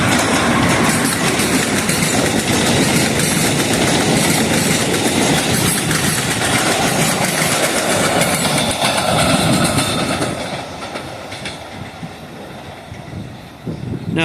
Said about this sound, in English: that was either the eastbound Crescent or the Silver Meteor